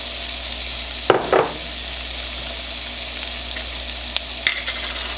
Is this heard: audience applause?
no